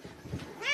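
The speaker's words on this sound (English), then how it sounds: "That cat complaining over nothing." A single short cat meow, fairly faint and nearby, rising at the end.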